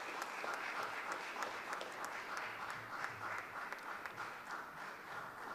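Steady applause from a small audience at a formal commemorative session as award recipients leave the stage, continuous dense clapping throughout at an even, moderate level with no talk.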